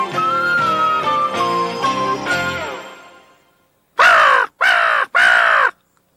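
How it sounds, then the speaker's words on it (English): Wild crow in Missouri heard in two parts: first a long, trailing wavering call that fades out, then three loud, harsh caws in quick succession, close by. "The crow is one of the most visible of Missouri's birds"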